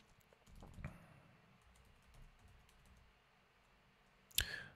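Typing on a computer keyboard, scattered soft key clicks over a quiet room, faint and close, ending with a sharper louder click burst.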